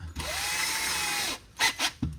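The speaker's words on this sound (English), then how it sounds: "pilot drill" A power drill whirs steadily for over a second while boring a pilot hole in a 10 cm offcut end cap for a homemade gold crevicing pump, then winds down, followed by a few short handling knocks.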